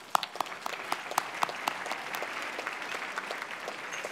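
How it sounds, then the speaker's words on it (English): Banquet audience applauding, a steady wash of many hands clapping with sharp individual claps standing out near the front, sustained at even loudness for the whole stretch. "Please, a round of applause for them."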